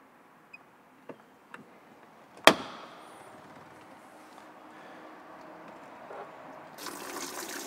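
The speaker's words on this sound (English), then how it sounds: "As we can see, the machine's draining into the bucket quite smoothly." A dishwasher pumps drain water out into a bucket, a soft continuous watery trickle under a few faint knocks and one sharp clunk, with a brighter rush of flow near the end.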